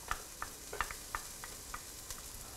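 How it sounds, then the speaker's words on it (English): Onions and garlic sizzling in a hot pan while cooking Italian wedding soup, soft crackling with a series of small pops and stirring clicks at a moderate level, no voices. "So we got that great sizzle"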